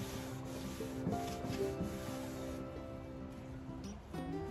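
A cloth wiping down a grimy surface with all-purpose cleaner gives a soft, steady rubbing and scrubbing sound, close and fairly quiet, running continuously with no talking.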